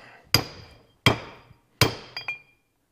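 A 3-pound hammer strikes air brake parts on a Dexter 15k trailer axle: three loud, ringing metallic blows about a second apart, then two lighter taps, close up with no talking.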